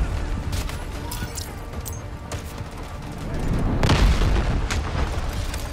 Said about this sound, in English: Artillery cover coming. Get ready to engage.